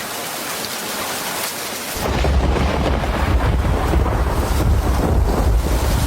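Heavy rain with rumbling thunder, quiet for the first two seconds and then swelling into a loud, steady downpour with deep low rumble that carries on to the end.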